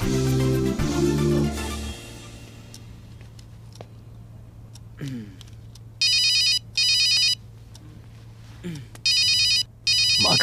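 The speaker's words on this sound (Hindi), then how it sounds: "माँ का फोन आ रहा है।" An incoming call rings on a phone: a bright electronic ringtone chimes in short repeating bursts, following a brief musical sting and quiet background.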